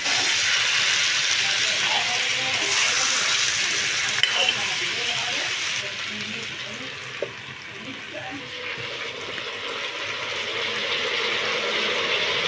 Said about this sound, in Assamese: মছলাখিনি ভালদৰে ভাজি তেল বেৰেঙি অহাত মাংসখিনি দি দিছোঁ।